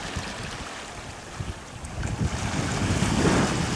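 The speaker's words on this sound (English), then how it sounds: "The wind is soft." Soft wind blowing by the sea, with waves and water washing near a boat, a steady broadband rush that grows slightly louder and fuller toward the end, with no talking.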